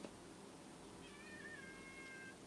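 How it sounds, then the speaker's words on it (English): A cat meows once in a thin, drawn-out call rising and falling over steady room hiss, fairly faint and with no voices. "My cat's meowing."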